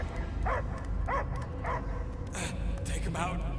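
Several barks and yips from a dog ring out in the video game Guardians of the Galaxy, spaced irregularly over a low rumbling backdrop, with characters talking in between.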